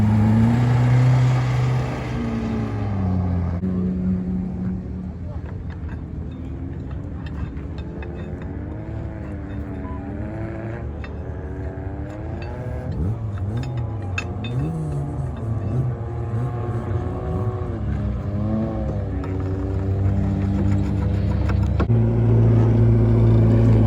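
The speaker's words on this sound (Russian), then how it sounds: "Люди долбят вот на этих всех машинах по этому ледяному кругу" Racing cars lapping an ice circuit during a 12-hour race, engines droning and rising and falling in pitch as they accelerate and pass, a continuous loud motor roar with shifting revs and no voices.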